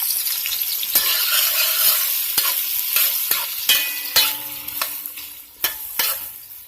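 A whole onion being stirred in a pan over the fire, a bright sizzle broken by a series of sharp scraping and tapping strikes of a spoon against the pan, some ringing briefly.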